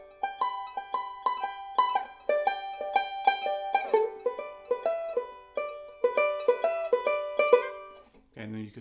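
Banjo working a Teardrop backup pattern through the F position and back to the bar position, a steady bright picked roll up close, ending with a brief low voice.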